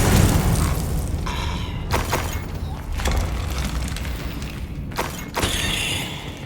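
Booming explosive bursts from the Confringo spell in the video game Hogwarts Legacy, several heavy thuds and crackling blasts spaced a second or two apart over a rumbling game soundscape.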